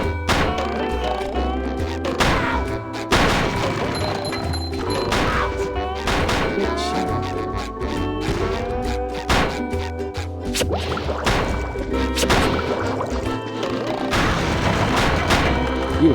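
Explosions and impacts in the SpongeBob Squarepants: Battle for Bikini Bottom video game come in repeated loud booms and thwacks over busy game music and effects, continuous throughout.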